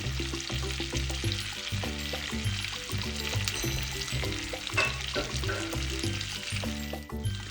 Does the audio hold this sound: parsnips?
yes